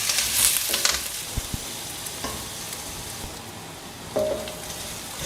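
Curry leaves and small onions are sautéed in a pan as part of a tomato kootu, producing a soft, even sizzle with occasional stirring clinks and scrapes, fairly quiet and without speech.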